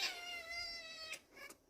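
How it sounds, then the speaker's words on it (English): A domestic cat gives a long, loud, strained meow close by, followed by two shorter meows, with no talking. "Cat wants to say something."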